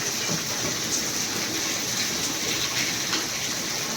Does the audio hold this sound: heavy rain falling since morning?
yes